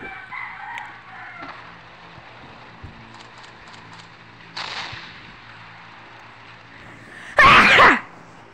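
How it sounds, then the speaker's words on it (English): A single loud, sharp sneeze bursts out near the end, following quieter, scattered background noise. "my sneeze is big."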